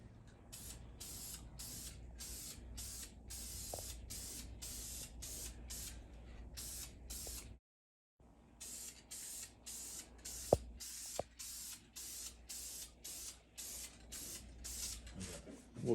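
Rapid bursts of spray paint hiss onto a junkyard Dana 60 hub and rotor, a long run of short, evenly spaced sprays with one brief pause, close and fairly quiet with a few faint clicks.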